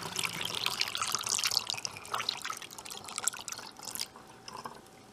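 Vinegar being poured from a container into a mixture for a homemade oven cleaner, a close splashing liquid stream that tapers into trickles and drips over several seconds, with no talking.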